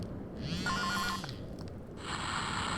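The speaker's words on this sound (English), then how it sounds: "excuse me, I have a phone call." A phone rings in Silent Hill: Shattered Memories, a clear electronic trilling ring that comes in two bursts and stands alone with no talk.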